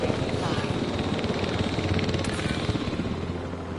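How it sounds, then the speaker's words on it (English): Helicopter standing by in the video game Jurassic World Evolution 3, a steady rotor thrum and engine hum with fast rhythmic chopping, heard close under a speaking voice. "Please report for dig site selection as the helicopter is standing"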